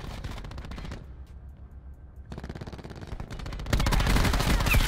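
Automatic gunfire in Call of Duty Black Ops 4 rattles in rapid, loud bursts, pauses for about a second, then resumes in sustained fire that grows denser and heavier toward the end.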